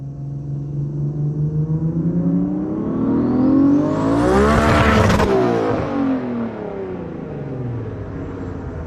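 A car is driven and its engine revs up in a long, loud sweep that peaks with a whooshing pass before easing back down to a steady drone.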